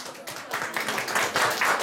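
A small audience claps for a child about to peel and chop vegetables at a talent show, the applause rising from a light patter into fuller clapping over about two seconds.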